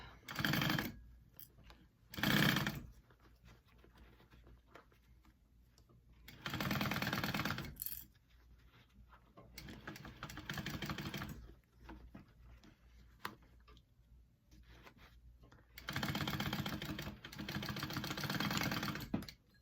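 Sewing machine stitching the lining seam of a hip bag in several bursts of fast, even whirring, each lasting a second to a few seconds, close and loud, with quiet pauses between and no talking.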